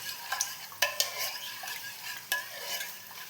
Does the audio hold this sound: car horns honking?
no